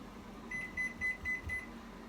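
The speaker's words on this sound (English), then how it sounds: "I put it in the microwave first, just because they are frozen." Microwave oven being used to heat 400 grams of frozen vegetables: five short, faint electronic beeps in a steady row over a low background hum.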